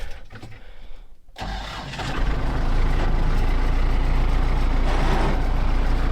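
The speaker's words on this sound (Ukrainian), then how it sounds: "Працюю я на тракторі МТЗ 826 на сьомій повишеній передачі" An MTZ 826 tractor engine, pulling a cultivator in seventh gear, starts and settles into a loud, steady low rumble that runs continuously to the end, close by.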